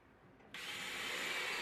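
A power drill bores holes into wood for the new base runners of a cart, starting abruptly after a quiet moment and then whirring at steady high speed with no voices.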